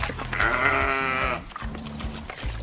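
Sheep on a New Zealand lifestyle block bleat in a long, loud, wavering call, followed by a second quieter bleat and a few soft thumps nearby.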